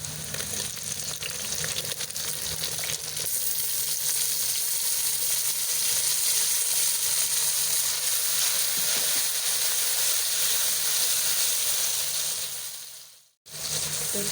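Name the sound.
tomatoes added to browned onions frying in pan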